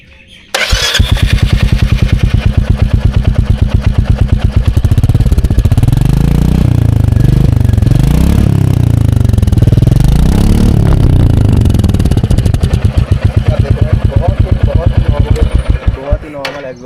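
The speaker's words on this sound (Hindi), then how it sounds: "ठीक है, मैं इसको आवाज़ सुना देता हूँ एक बार एग्जॉस्ट की। तो मैं चालू करता हूँ एक बार" A Royal Enfield Meteor 350 motorcycle starts up, then its engine and exhaust settle into a loud, steady close-range idle with a few throttle blips that rise and fall in pitch midway.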